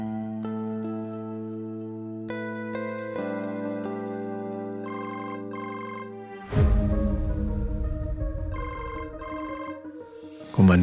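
A telephone rings with an incoming call in an Indonesian drama scene, a repeating electronic ringtone pattern over sustained music, which then swells louder partway through with the ring continuing on top.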